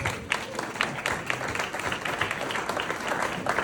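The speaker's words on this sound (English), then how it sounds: "And please keep that applause going for Lewis's close friend, Bobby." Wedding guests applaud steadily through a round of speeches, a dense, continuous patter of many hands clapping at a fairly even level from start to finish, with no talking over it.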